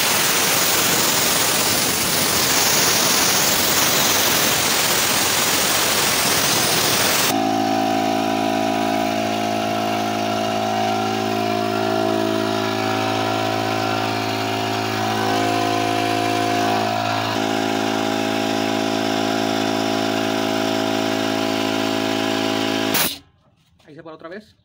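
A Truper 50-litre air compressor first hisses loudly as air is released, then its motor hums steadily at a constant pitch for about fifteen seconds before stopping abruptly near the end.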